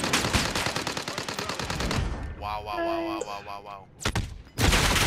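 Rapid bursts of gunfire, loud and close at the start, fading into a quieter stretch with a brief voice before another loud burst near the end.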